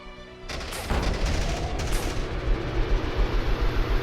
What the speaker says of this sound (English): she throws the grenades. The explosion engulfs the Patriarch.